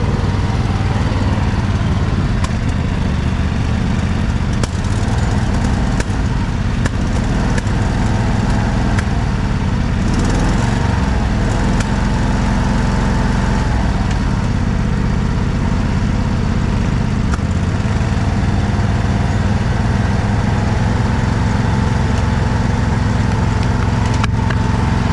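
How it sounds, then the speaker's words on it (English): Lawn mower mowing a section of grass, a loud continuous engine drone with rough chopping texture and slight load changes, close and steady throughout with no talk. "Start mowing this whole section right here."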